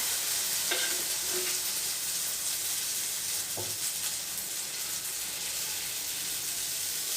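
Okra fries with lentil spice powder in a pan, a steady close sizzle and hiss running throughout, broken by a few light stirring clinks and scrapes, with no talking.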